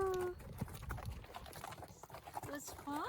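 Passenger mules walk a Grand Canyon trail, faint scattered hoof clops on rock mixed with people talking and greeting nearby, the hoof sounds light and uneven.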